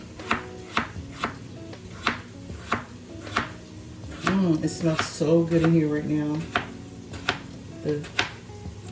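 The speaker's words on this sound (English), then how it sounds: "And now we're going to just go ahead and slice this up." A Cutco knife slicing food into thin slices on a cutting board in a home kitchen while making Zuppa Toscana, about a dozen evenly spaced crisp chops, close and clear, with a person briefly talking partway through.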